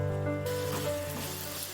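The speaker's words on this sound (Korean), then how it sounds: "팬을 닫고 소스가 바글바글 끓으면 튀긴 황태를 넣고 섞고" Soy-and-oyster sauce with garlic, oligosaccharide syrup and ginger syrup bubbles and sizzles in a pan with fried dried pollock, a close, steady crackling hiss with a constant hum behind it, no voices.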